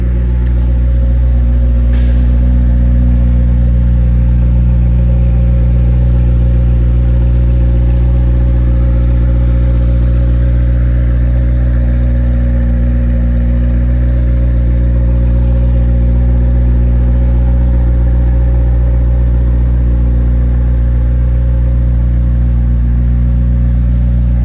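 Brand-new 2026 ice-white McLaren 750S with a twin-turbo V8 running loud and close, a deep steady idle drone with strong low harmonics and slight swells in pitch throughout.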